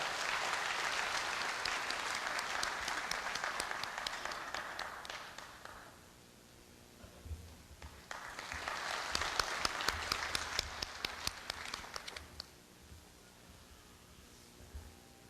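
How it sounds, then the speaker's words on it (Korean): Audience applause at Korea University's 110th anniversary ceremony, a burst of many hands clapping that fades out, a short lull with low rumbles, then a second wave of clapping that dies away again. "큰 박수로 교우회장님을 맞이해 주시길 부탁드립니다."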